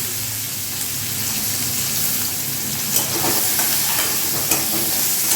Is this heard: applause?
no